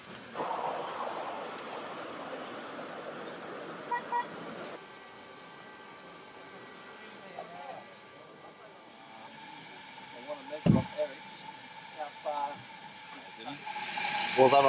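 An LNER P2 model steam locomotive with three cylinders steams up at an outdoor model engineering show, giving a steady low hiss and light mechanical ticking under nearby conversation and background noise.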